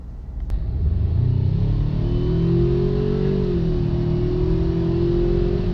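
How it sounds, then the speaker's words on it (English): A 2019 Ford Ranger XLT pickup with a 10-speed automatic accelerates hard from a floored throttle, its engine rumble rising steadily and holding strong through the upshifts, loud and close with no talking. "right then when I just punched the gas"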